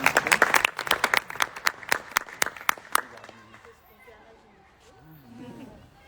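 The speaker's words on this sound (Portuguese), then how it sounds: "uma salva de palmas para ela, que faz isso" A small audience claps at a nutrition education workshop, sparse distinct claps that fade out after about three seconds, followed by quiet murmuring voices.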